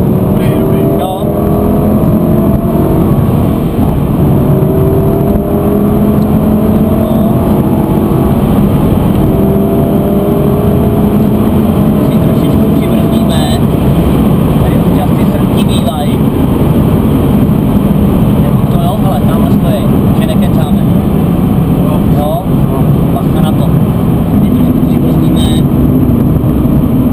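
A Lamborghini drives on an airfield, its engine loud and close, repeatedly climbing in pitch and dropping back as it shifts through the gears over a constant road rumble.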